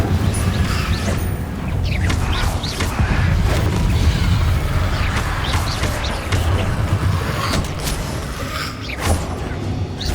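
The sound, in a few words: Incendio fire spell being cast, from the video game Hogwarts Legacy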